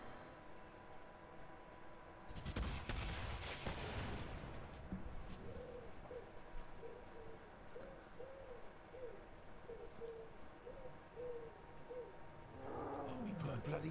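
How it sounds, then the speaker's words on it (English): Tiger roaring in the video game Saints Row: The Third Remastered, a series of repeated low, moaning growls pulsing at a steady rhythm through a steady ambient background, preceded by a loud burst of noise. "Why is the tiger putting me off?"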